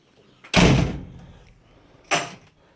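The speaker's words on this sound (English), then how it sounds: "this door does close a lot easier now" Two solid closing thuds from the door of a 1972 A-suffix Range Rover, the first heavy and close with a short rattling decay, the second a lighter latch clunk about a second and a half later.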